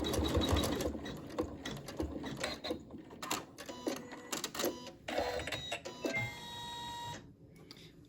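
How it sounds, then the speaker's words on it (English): A computerized embroidery sewing machine stitching a tack on a pincushion project: a fast, steady mechanical needle chatter with clicks and whirring, moderately close, stopping with a short beep near the end. "pick up my needle, hit the start button,"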